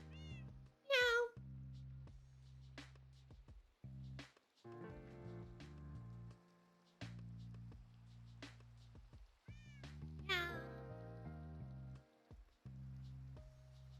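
A Minecraft cat meows twice, short rising-falling cries roughly nine seconds apart, clear over a steady game backdrop with music-like tones and no talking.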